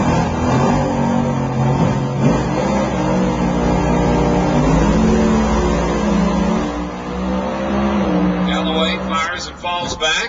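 An alcohol-burning funny car at an NHRA drag strip in Baytown, Texas, roars loud and sustained at launch, its engine note shifting as it pulls away, with fainter crackling toward the end and no clear talk over it.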